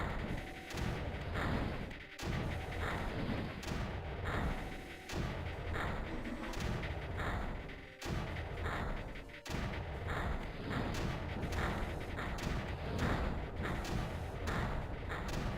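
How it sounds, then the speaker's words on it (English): Mortars fire repeatedly in the Creeper World strategy game, making dense booming thumps and blasts at an irregular rhythm over a busy background. "start destroying this creeper with this mortars"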